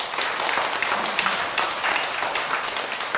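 Audience at a Buddhist dharma talk applauding: a steady, dense wash of clapping from many hands that holds evenly throughout, with no voices over it.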